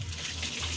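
Tap water runs steadily while banana blossom is rinsed to wash out the salt, a constant close splashing stream with no voices.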